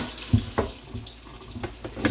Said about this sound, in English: First, we need to wash this pan with the cutting board.